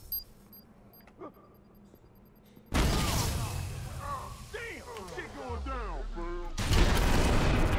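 A frag grenade goes off in the video game Watch Dogs: after a quiet stretch, a sudden loud, full-bodied blast erupts and rumbles on while someone talks over it, and a second heavy burst arrives near the end.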